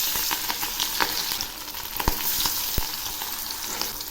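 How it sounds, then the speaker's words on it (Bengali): Katla fish pieces rubbed with turmeric and salt sizzle steadily in hot oil in a kadai, a dense crackling hiss with scattered sharp pops throughout, close and continuous with no talk. "তেল গরম হয়েছে, মাছগুলো ছেড়ে দিচ্ছি"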